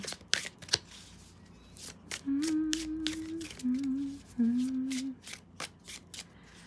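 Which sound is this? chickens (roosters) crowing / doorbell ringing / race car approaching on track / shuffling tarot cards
shuffling tarot cards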